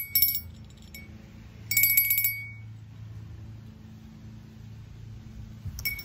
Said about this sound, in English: this one looks like a little copper cowbell